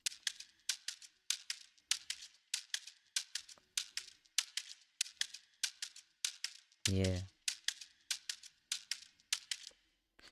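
A shaker keeps a steady rhythm for an afrobeat groove, bright crisp shakes repeating evenly with one brief low thump partway through and a short spoken word.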